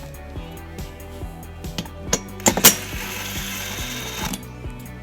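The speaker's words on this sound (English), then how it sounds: "We're going to remove those bolts using a 10mm socket." Ratchet with a 10mm socket turning exhaust tip bolts on a 2018 Subaru Legacy, rapid close clicking in a steady rhythm with a few sharper metallic clanks midway.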